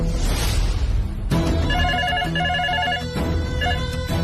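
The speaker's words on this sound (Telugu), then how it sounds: "ఓ పని చేద్దాం, ఇంటి ల్యాండ్ లైన్ ఫోన్ చేద్దాం" A landline phone's electronic ring, repeated in short bursts over a loud background of music and room sound, with no one speaking.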